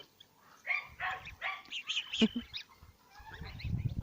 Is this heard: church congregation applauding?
no